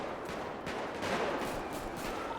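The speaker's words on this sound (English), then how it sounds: "The locals are shooting at me." Video game gunfire, a dense, continuous rattle of shots that blur into a harsh wash of noise for the whole stretch.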